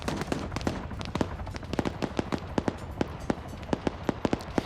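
An M2 heavy machine gun fires during a video game battle, loosing a steady rhythm of sharp, cracking shots in quick short bursts over a low background rumble, moderately distant and with no voices.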